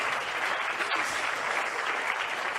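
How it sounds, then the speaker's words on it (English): Audience applause at the Alpine F1 2024 car launch, a dense steady wash of many hands clapping that holds throughout. "I think a round of applause."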